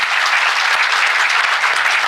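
An audience claps in a dense, continuous round of applause, loud and close, with no voices over it.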